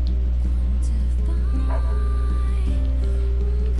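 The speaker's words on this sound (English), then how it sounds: "I don't remember Devila having a doggy, but I love him." A dog in the video game NieR Replicant gives a few short yips and barks over a steady game music and ambient drone, fairly faint within the mix.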